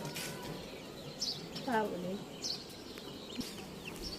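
Chickens kept in a lower pen on a home rooftop cluck in a few faint, brief calls against quiet background noise, with a person speaking softly nearby.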